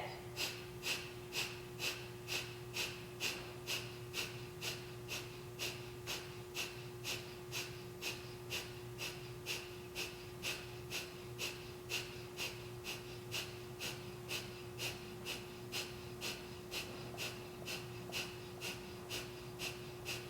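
Rapid rhythmic Breath of Fire yoga breathing, sharp forceful nasal exhales pumping at a steady fast pace for about twenty seconds, close and alone without speech.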